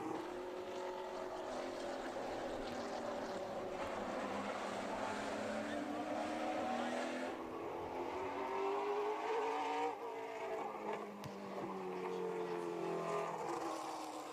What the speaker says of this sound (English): That's a good-looking race car.